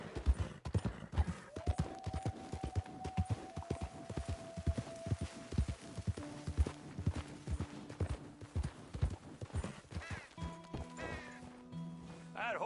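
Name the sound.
horse hooves in video game Red Dead Redemption 2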